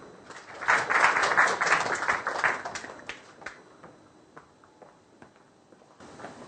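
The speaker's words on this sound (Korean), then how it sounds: "박수 한번 쳐주세요." Classroom applause in a Korean university lecture as a student is called to the front, a burst of clapping that swells early then thins to scattered claps and footsteps before stopping.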